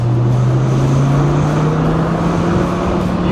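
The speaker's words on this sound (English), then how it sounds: "you feed a Viper just a little gas and it makes so much torque" A 1993 Dodge Viper RT/10 roadster's 400 hp V10 pulls steadily, its low exhaust growl rising gradually in pitch as it accelerates, loud and close from inside the car.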